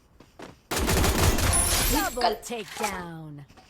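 Gunfire in a video game bursts out as a dense rapid fusillade for about a second and a half, loud and close, followed by a voice talking over fading game sounds.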